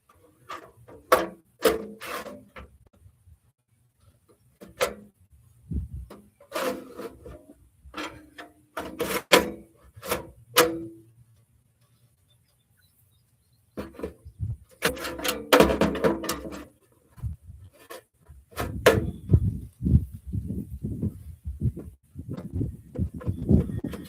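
Two 500 GB 3.5-inch hard drives slide into a PC case being built outdoors, giving repeated scraping, clicking and clunking metal knocks in bursts, with pauses, followed by denser rattling handling.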